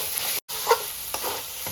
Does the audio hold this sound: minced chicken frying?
yes